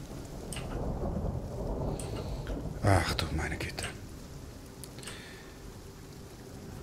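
Rain pours steadily in the Abtei des Reiters horror game, with a loud rumble of thunder cracking near the middle; someone speaks quietly over the downpour.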